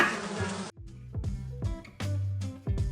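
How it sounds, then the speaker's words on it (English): A cloud of bees swarming in the wild, a dense buzzing drone that comes in several close, loud surges with brief dips between them. "a cloud of bees decides it's time for a sting operation"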